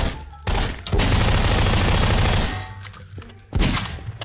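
A dense burst of rapid gunfire in the Prop Hunt video game rattles loudly and continuously for about two seconds, followed by a few scattered single shots, with no talking over it.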